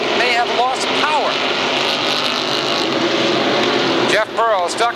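SK Modified race cars roar around Waterford Speedbowl in a 1992 feature, a steady loud engine drone with rising and falling pitch as cars pass, under continuous excited commentary.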